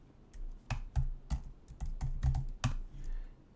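Computer keyboard keys tapped in short irregular bursts while editing code, close and crisp, with pauses between clusters of keystrokes and no talk.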